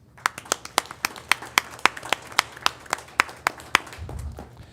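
A small group claps for students at a school board meeting, about a dozen or more sparse, fairly loud hand claps in a steady irregular rhythm, fading out near the end with a low murmur.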